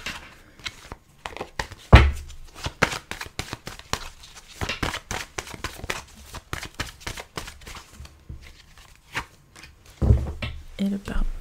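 Tarot cards are shuffled for a reading in a run of quick riffling flutters and taps, with someone talking over them.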